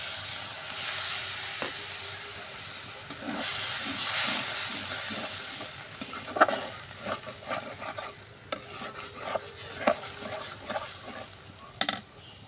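Fried ginger-garlic paste sizzles loudly in a pan as a little water is added, the hiss swelling early and then giving way to rhythmic scraping and stirring clicks, close up and without talk.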